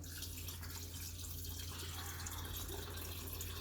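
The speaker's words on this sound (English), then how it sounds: "I'm going to add this water." Water pours steadily through a funnel into the salt compartment of a Voltas Beko DT8S dishwasher, a quiet continuous trickle and splash with a low steady hum underneath and no speech.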